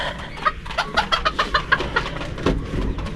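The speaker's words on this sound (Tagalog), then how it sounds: "Yung 2 manok natin." Two backyard chickens cluck close by, a series of short, evenly spaced clucks followed by a lower, rougher call.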